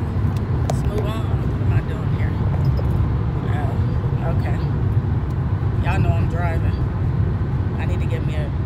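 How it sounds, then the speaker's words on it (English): Steady low road rumble inside a moving car on the way to work, continuous and fairly loud, with a voice talking over it throughout. "Y'all know I'm driving."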